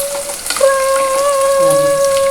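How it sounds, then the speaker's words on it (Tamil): Onions frying in a pan for fish curry give a steady close sizzle, with a sustained tonal whine running over it for most of the short stretch. "வெங்காயம் வந்து நல்லா ஃப்ரை ஆகிடுச்சு"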